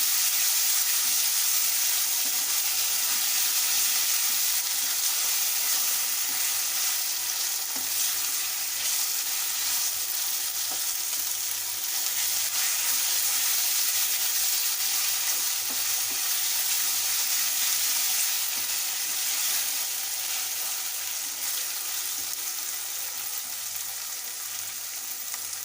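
Tomatoes sizzle in a hot pan for mushroom masala, giving a loud, steady frying hiss with faint crackles that holds nearly unchanged for about twenty-five seconds, with no talking.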